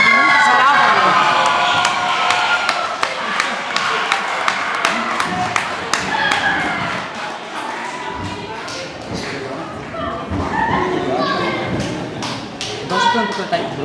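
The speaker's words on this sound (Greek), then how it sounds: "Δημήτρη, πολλά κορίτσια σε χειροκροτούν." Girls clapping and cheering for Dimitris, a lively crowd of applause with sharp individual claps and thumps over several seconds, mixed with talking voices throughout.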